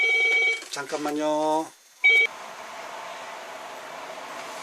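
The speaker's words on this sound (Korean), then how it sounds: "지금 동영상을 촬영하는 사무실에 전화도 오고" An office telephone rings in a couple of bursts, followed by a steady hiss of room noise, while a person says a brief word.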